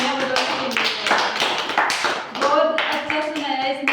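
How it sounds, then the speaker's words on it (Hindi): Schoolchildren clap together during a classroom activity, a quick run of uneven hand claps close by, mixed with a teacher's voice speaking over them. "शाबाश, सभी तालियां बजाओ।"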